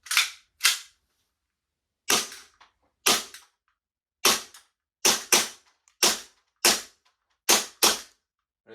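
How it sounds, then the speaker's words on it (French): An airsoft Glock 17 Gen3 gas blowback pistol fires about ten sharp, crisp shots at uneven intervals, some in quick pairs, each cracking cleanly with a short tail and silence between. "Là je tire un peu partout."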